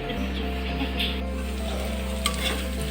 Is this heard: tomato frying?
yes